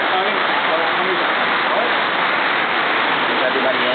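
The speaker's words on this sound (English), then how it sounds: "It's really pouring out here." Heavy rain pours down in Ghana, a constant dense roaring hiss with no breaks, loud and close throughout the four seconds.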